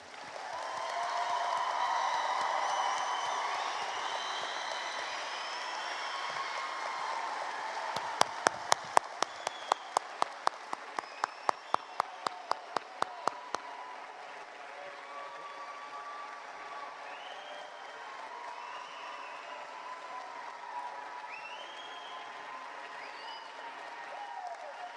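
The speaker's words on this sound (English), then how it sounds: "let's give the class of 21 a round of applause" Audience at a 2021 high school commencement applauds the graduating class, a broad wash of sustained clapping and crowd noise, with a burst of sharp, close, evenly spaced claps rising briefly out of it midway before the applause thins toward the end.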